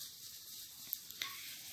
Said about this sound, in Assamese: মিহি মিহিকৈ কাটি থোৱা পিয়াজখিনি দি ৰঙচুৱা হোৱাকৈ পিয়াজখিনি অকমান সময় ভাজিব লাগিব